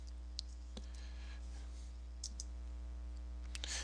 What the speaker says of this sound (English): I'm going to type in x2go.